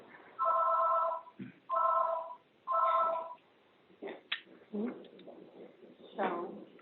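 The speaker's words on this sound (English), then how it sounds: "Whose phone's ringing in the background?" Telephone ringing in the background of an online emergency council meeting, three evenly spaced electronic trilling bursts followed by scattered short sounds and faint voices.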